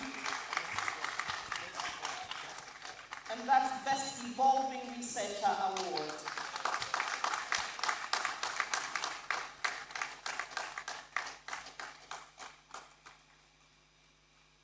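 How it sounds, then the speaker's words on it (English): Applause rises from an awards-ceremony audience at a university research awards event, dense clapping continuing under a presenter's amplified voice and then thinning out toward the end. "Let's applaud him."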